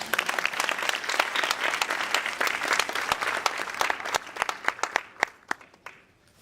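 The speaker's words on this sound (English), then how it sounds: "Can we give Bella a round of applause?" A room of listeners applauds a student speaker after a public speaking talk, dense clapping that thins into scattered individual claps before fading out.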